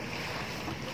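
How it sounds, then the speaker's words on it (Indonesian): Beach on a bright sunny day, constant rushing roar of waves and surf mixed with heavy wind buffeting the microphone, close and loud with no talking. "aku lagi di pantai dan suasananya itu cerah banget"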